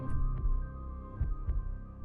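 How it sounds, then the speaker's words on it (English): Heartbeat sound effect from the Netflix Daredevil series: a few deep, muffled thumps in irregular pairs over a steady low hum, with no voices. "And the heartbeat here."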